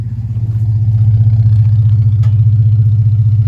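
A different car's engine fitted with a Crow aftermarket cam idles loud and close, with a strong low, choppy lumpy throb that stays steady throughout and has a slight rise at the start.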